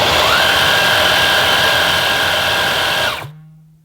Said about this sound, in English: show you the motorised tools in action, starting with the anti-tangle screw